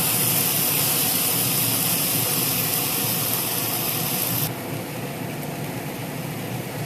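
Okra fries in hot oil with a loud, continuous hiss that stays steady, then drops slightly partway through, with no voices.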